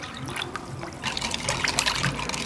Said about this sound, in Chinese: 倒水搅起来。